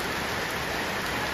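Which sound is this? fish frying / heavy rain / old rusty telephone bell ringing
heavy rain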